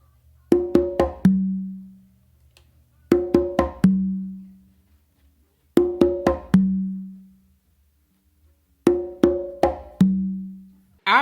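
A makuta pattern is played on three congas in four repeating phrases. Each phrase has a quick run of slaps and open tones that ends in a deep, ringing open stroke on the tumba. The drumming is close and crisp, with silences between phrases.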